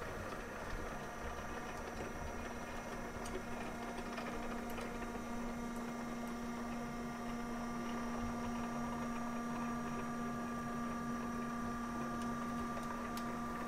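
A Märklin gauge 1 model construction-train locomotive, V 320 001 at 1:32 scale, rolls slowly over tight-radius track switches with a steady, quiet mechanical whir and faint ticking from the rails, no voices.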